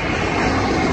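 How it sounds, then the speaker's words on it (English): An airplane passes overhead with a continuous, steady engine roar, loud and broadband, with no voices over it. "look at that plane."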